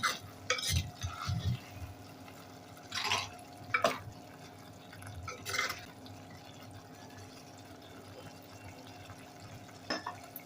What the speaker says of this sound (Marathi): बघूया खिचडीला थोडं आपण परतून घेऊया